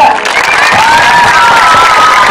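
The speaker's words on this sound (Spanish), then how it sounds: "Aplauso para la grandota." Crowd at a seaside show in Mar del Plata claps and cheers for a contestant, a steady wash of applause with shouts and a high voice rising above it, close and loud throughout.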